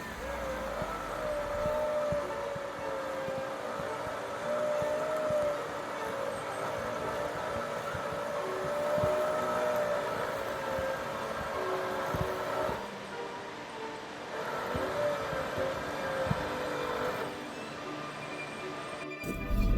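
A Land Rover LR3's winch runs with the engine revving slightly, a steady mechanical whine and drone holding throughout, fairly loud and close, with a faint change in pitch partway through.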